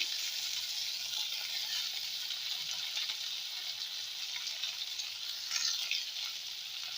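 Green chilli and tomato frying in a pan with cumin seeds and curry leaves, giving a steady close sizzle with faint crackle and stirring, unbroken for the whole stretch with no voice.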